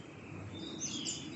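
Birds chirp faintly among the trees of Kowloon Park in Hong Kong, with a few thin calls over soft outdoor city ambience.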